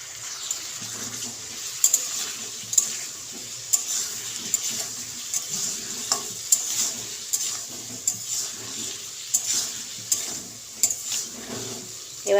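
Onions frying with ginger-garlic paste in a pan for spicy aloo dum, with a continuous close sizzle and regular scraping stirs of a spoon against the pan; no voices.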